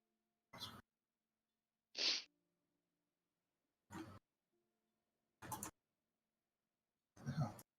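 A person sneezes once, sharp and close, in a quiet room at a tabletop Dungeons & Dragons session, amid a few soft clicks and small breathy sounds spaced through the otherwise silent moment.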